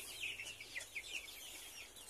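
Free-range native chickens raised in a garden make faint, soft clucks, repeated in an irregular patter against quiet background noise.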